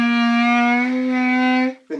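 A single sustained clarinet note, a whole-key C, rings steady, loud and resonant for nearly two seconds, then cuts off sharply before a brief soft sound follows; no one speaks over it.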